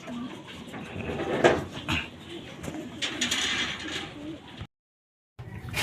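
Pigeons cooing around a loft during bath time, soft low coos and a few sharper bird calls over a busy background, with a short dead-silent gap near the end.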